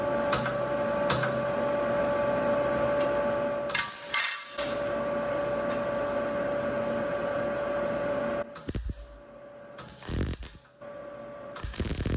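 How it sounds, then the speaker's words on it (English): Tack welds are laid on a broken metal coffee table leg, with a steady electric welding hum and buzz broken by short pauses, then several quick separate bursts near the end. "Just gonna get a little tack going."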